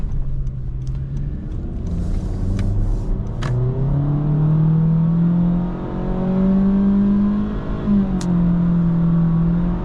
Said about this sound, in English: So I put the car in sport, and we can check out the acceleration a little bit here